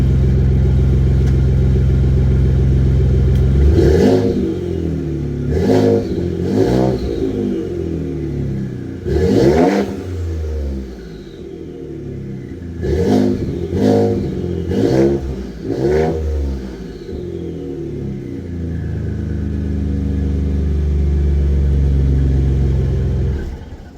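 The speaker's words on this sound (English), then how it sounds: "Let's get some revs." A 2018 Ford F-150 EcoBoost revs repeatedly, about eight sharp throttle blips rising and falling over a loud, deep exhaust rumble and idle, close up with no talk.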